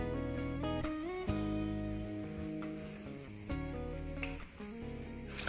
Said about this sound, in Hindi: बिल्कुल लो फ्लेम के ऊपर हमने गुड़ को पकाना है, चम्मच चलाते जाना है।